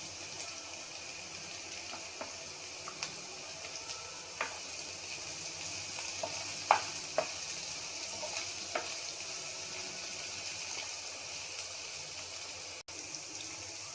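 Capsicum sautéing with onions in a pan, a steady broadband sizzle running throughout with a few soft clicks of stirring, no voices.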